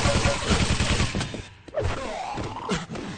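Weapon fire in a Quake two-versus-two team deathmatch, with rapid rattling shots, rocket blasts and thuds in a busy firefight, heard under an excited commentator's voice.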